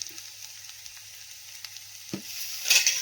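Chickpea curry masala with chili and turmeric powder sautéing in a pan, a steady low sizzle with a few scraping stirs and a louder burst of frying near the end.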